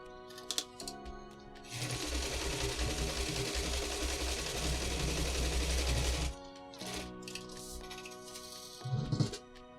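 A home sewing machine with its thread tension turned all the way up stitches in a fast, steady whirring chatter for several seconds, framed by quieter handling clicks before and after.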